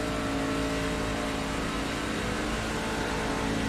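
Race car engines in the iRacing sim roar steadily at a constant loud drone, with dense broadband engine noise throughout and no clear passes.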